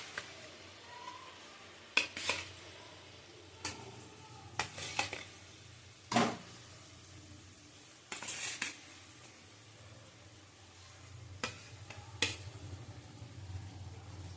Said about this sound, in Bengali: দেখো ঝোলটা ফুটে গেছে, মাছগুলি দিয়ে দেবো।